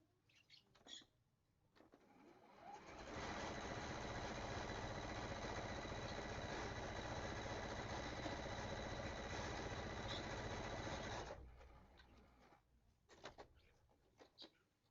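A sewing machine stitching two quilt pieces together, running in one steady whir for about eight seconds, with faint handling noises before and after.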